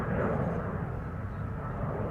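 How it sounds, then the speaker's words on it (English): A Boeing 787 Dreamliner jet taking off at Schiphol, a deep rumbling engine roar that stays dense and fairly loud across a short stretch, with no voices. "Dreamliner taking off from center"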